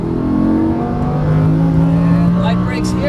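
A car on a racing track accelerates under power, its engine droning steadily and climbing in pitch, loud and close, with a faint voice over it.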